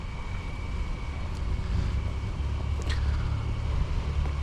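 A 2010 Infiniti FX35 AWD engine idles with a steady low hum and rumble, quiet and unchanging throughout.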